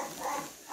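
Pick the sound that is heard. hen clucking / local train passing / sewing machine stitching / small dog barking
small dog barking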